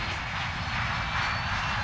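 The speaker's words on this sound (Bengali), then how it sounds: "প্লেন উড়লো" Cartoon airplane taking off, a steady loud roar of engine noise with a broad hiss, sustained and even throughout with no voices.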